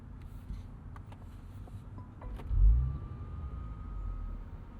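A 2025 Mercedes-AMG CLE 53 Cabriolet with a 443 hp turbocharged inline-six gives off a low, close rumble that swells briefly in the middle, then settles back to a steady idle.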